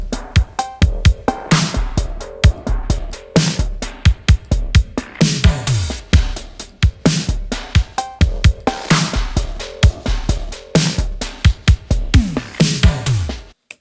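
Two drum loops layered together, a clean punchy loop and a heavily effected secondary loop, play a busy, steady groove of loud, sharp hits with a deep kick and bright, crunchy textures throughout, with no voices.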